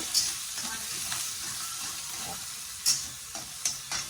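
Onion, green chili and curry leaves sauté in a pan with a steady soft sizzle, broken by a few sharper stirring scrapes near the start and again toward the end, close by with no talk.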